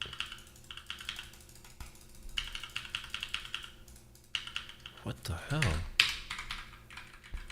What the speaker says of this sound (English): I guess I'll use the keyboard.